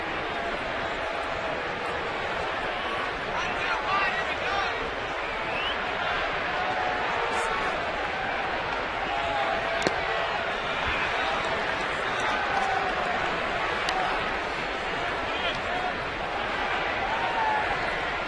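A sellout crowd of over 42,000 fills a baseball stadium at a Giants home opener, a steady wash of distant cheering and scattered clapping running the whole time, with a commentator talking over it.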